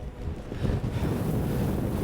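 Gusty wind buffets the microphone in a steady, low roaring rumble that never lets up, loud and close, with no voices.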